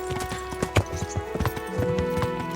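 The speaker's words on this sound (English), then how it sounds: "now let's take the amazing horse that we have." Warhorse clip-clopping in the video game Kingdom Come Deliverance, irregular hoofbeats on hard ground over a faint tonal game background, close and clear, no talk.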